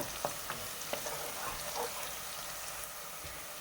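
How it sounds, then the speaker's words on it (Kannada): Onions frying in a pan toward golden for a palak chicken gravy, a faint steady sizzle with a few light taps and stirring clicks, quiet and close. "ಈಗ ಈ ಈರುಳ್ಳಿ ಫ್ರೈ ಆಗ್ತಾ ಇದೆಯಲ್ಲ"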